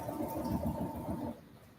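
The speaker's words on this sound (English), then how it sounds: "So this machine, and actually many of the Brother machines, can actually sew directionally." A Brother sewing machine stitching forward, a fast, steady mechanical whirr with rapid needle pulses for just over a second before it stops.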